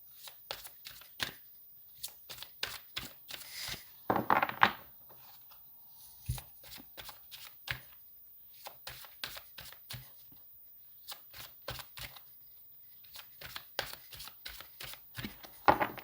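Tarot cards shuffled by hand in a series of quick, papery riffles and taps, with bursts of sound separated by short pauses.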